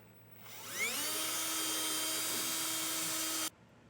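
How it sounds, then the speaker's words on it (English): A power drill bores holes for base plate bolts in the front end of a 2024 Jeep, spinning up to a steady high-pitched whine that holds for about three seconds before stopping abruptly; close and loud, no talking. "But just take your time here and get these drilled out."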